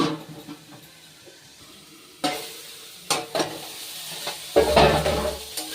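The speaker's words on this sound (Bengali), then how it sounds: "নুন হলুদ দিয়ে বেগুনটা কষা ভাজা বা কষাই এভাবে নেড়ে চেড়ে নেব" Eggplant frying with salt and turmeric sizzles quietly in a pan, then a spatula stirs it in several close scraping strokes that grow louder toward the end, with no talking.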